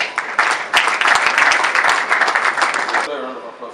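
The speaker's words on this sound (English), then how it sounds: "Let's give a round of applause." Applause from an audience, a dense patter of many hands clapping for about three seconds before fading, with some voices mixed in.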